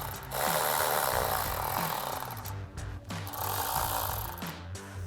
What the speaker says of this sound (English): go ahead and remove our 10 millimeter mounting screw